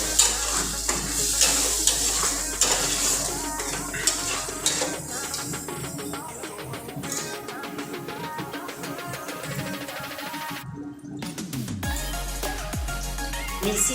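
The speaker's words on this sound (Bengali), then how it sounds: "এবার আমি যে মশলার পেস্টটা রেডি করেছিলাম সেটা এর মধ্যে দিয়ে দেবো।" Spice paste for a vegetarian dahi begun, an aubergine and yogurt dish, sizzles and fries in a pan while a spoon stirs it steadily, with scraping strokes over a continuous hiss and no talking.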